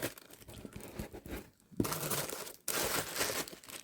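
Paper and cardboard packaging crinkle and rustle up close as it is unwrapped, with a few brief pauses between bursts of handling.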